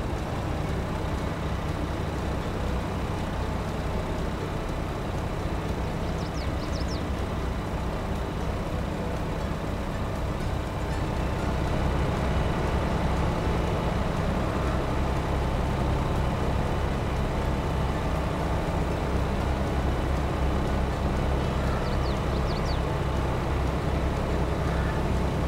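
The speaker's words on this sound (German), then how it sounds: "Und den Motor an, damit er abtanken kann." A tractor engine in Farming Simulator 22 idles steadily throughout as a low, even drone that holds at constant loudness, with no talk over it.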